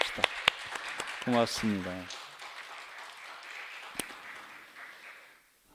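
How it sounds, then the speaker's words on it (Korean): A voice speaks briefly, then a church congregation claps in a soft, spread-out wash of applause that slowly fades away. "우리 감사의 박수 드리십시다."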